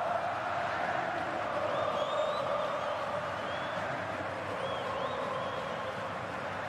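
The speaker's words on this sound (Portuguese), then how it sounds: "Torcida do Atlético Paranaense tentando incentivar o time" Athletico Paranaense supporters at the Arena da Baixada during the 2021 Copa do Brasil final, a broad steady crowd roar with chanting and occasional whistles, distant and sustained throughout.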